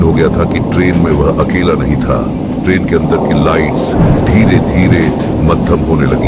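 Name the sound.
thunder and heavy rain outside a train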